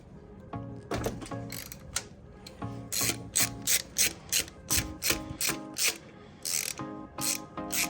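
A 12 mm ratchet works a bolt loose on a Nissan Maxima during a transmission removal, with repeated close clicking strokes in a steady back-and-forth rhythm, each burst a fast ratcheting buzz.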